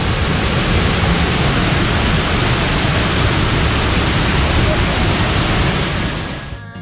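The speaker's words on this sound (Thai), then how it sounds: "น้ำตกตาบกวางสี หรือบางทีก็เรียกว่า น้ำตกตาบกวางสี" Tad Kuang Si waterfall near Luang Prabang, Laos, roaring as a steady, dense rush of falling water, loud and close throughout, fading slightly only at the very end.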